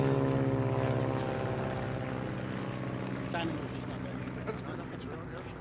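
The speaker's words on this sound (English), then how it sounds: "we have a flyover from some historic aviation" Historic aircraft flying over a Veterans Day ceremony, a steady loud propeller drone with a throbbing engine hum that fades slightly as it passes, with a voice talking over it.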